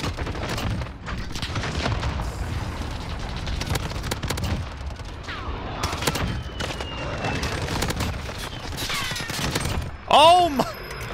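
Rapid gunfire in Call of Duty: Modern Warfare on the Shipment map, dense bursts of automatic rifle fire and sharp single shots across the whole stretch, with a player's voice breaking in near the end.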